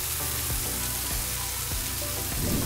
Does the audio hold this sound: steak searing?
yes